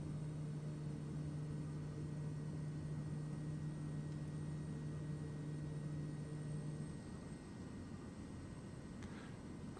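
Propeller drone of a Kodiak aircraft landing in a flight simulator game, a steady loud engine hum with a sustained low tone that drops away near the end, broad wind-like noise underneath throughout.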